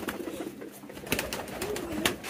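Bombay pigeons cooing softly in a loft, a low, throaty warbling coo rising and falling, fairly close, with scattered rustles and light clicks around it and no talking.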